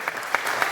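Audience applause fills a hall at an Indian poetry recital, steady clapping with a few sharper claps standing out, heard briefly and alone.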